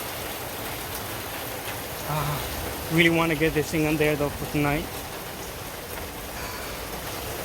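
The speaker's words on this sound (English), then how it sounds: "started raining." Steady rain patters outdoors during a repair of an A/C condenser fan motor, a continuous hiss that runs throughout while someone talks briefly in the middle.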